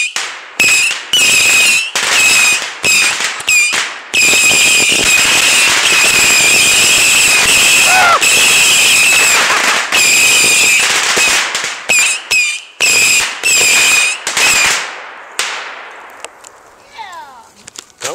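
An airsoft 300-round missile battery fires during a skirmish, loosing long strings of rapid, loud firecracker-like pops in several bursts separated by short gaps, with faint voices in the background toward the end.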